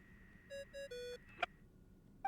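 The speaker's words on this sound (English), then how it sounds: "I really hate that ringing tone." An in-game phone ringtone from Genshin Impact: a brief, faint electronic melody of three short tones, then a sharp click, set against quiet background.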